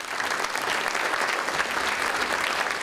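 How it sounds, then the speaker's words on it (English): Audience applause at a cultural diversity awards ceremony, a dense, steady wash of many hands clapping at close range, sustained and even for the whole stretch with no talk over it. "Let's give them a big round of applause."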